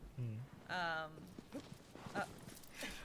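Horse hooves clip-clop in the video game Shadow of the Colossus, a few soft hoofbeats mixed with a brief horse-like call while a person talks over the game.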